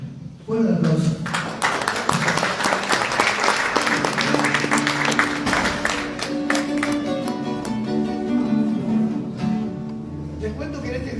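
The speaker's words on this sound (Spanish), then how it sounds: "Fuerte aplauso." A crowd applauds loudly at a Guaraní language and culture tribute evening in Paraguay. Dense clapping swells quickly, then mingles with voices and sustained musical tones before easing off.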